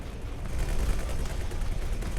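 A defense platform section blowing up in the space game X4: Tides of Avarice, heard as a sustained, dense rumble of overlapping blasts and crackling bursts lasting about two seconds, loud and continuous with no voices.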